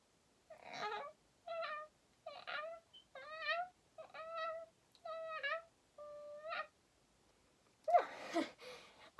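A person imitating cat vocalizations, giving a series of about eight short, whiny meow-like calls with steady rhythm and clear pauses, close and moderately loud, ending in a burst of breathy noise.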